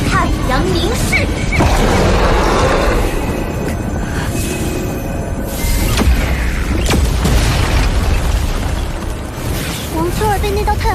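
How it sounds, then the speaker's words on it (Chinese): An animated fantasy battle in Soul Land 2 where a gathered ball of sunlight explodes, rendered as dense booming blasts and crackling bursts layered over dramatic music throughout. "那团太阳光会爆炸的。"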